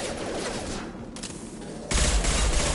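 Sustained, dense gunfire fills a Mass Effect firefight: rapid overlapping shots with no pauses, which swell louder and heavier near the end.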